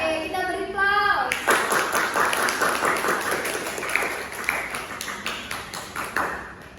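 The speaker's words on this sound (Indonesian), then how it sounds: "Oke, kita beri aplaus." Classroom applause breaks out after a student's answer, a dense burst of clapping from a group that follows a brief tone and keeps going, slowly thinning, with scattered voices underneath.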